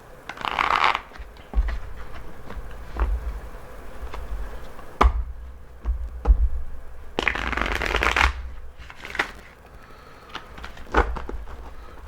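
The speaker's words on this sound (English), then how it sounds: "I want to shuffle these cards." A full tarot deck shuffled by hand in repeated riffling bursts, crisp papery flutters and slaps separated by brief pauses, close and alone with no talk.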